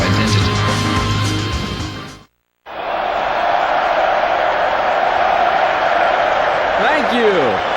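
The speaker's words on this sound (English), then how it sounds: "Thank you for your applause." Crowd applause and cheering in the fighting game Tekken 4 swell as a loud, continuous roar after a short break in the sound, with a faint whooping cry near the end.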